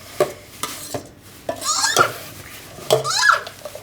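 Pani puri filling is mashed in a bowl, giving irregular knocks and scraping clatters of a utensil against the bowl, with a voice speaking faintly in between.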